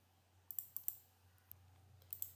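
A mouse clicks a start button several times: a few quiet, close, crisp clicks, some in quick pairs, over a low electrical hum.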